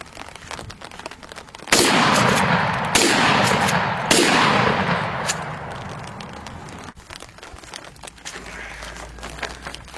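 A shotgun fires Winchester number 3 buckshot in a few loud, close blasts in quick succession, each followed by a long, rumbling outdoor echo that fades into low background noise.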